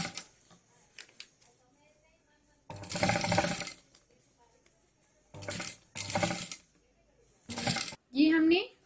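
A sewing machine stitches across a folded fabric organizer with foam padding, running in three separate bursts of whirring with quiet pauses between them. A voice speaks briefly at the end.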